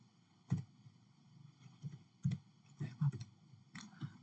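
Quiet, sparse key clicks from typing on a computer keyboard, a handful of separate taps at an uneven pace, heard close and alone without talk.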